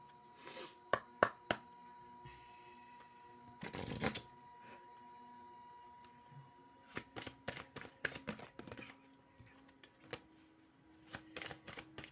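Tarot cards being shuffled close by, with quiet riffles, taps and slides in uneven bursts separated by pauses, plus faint background music.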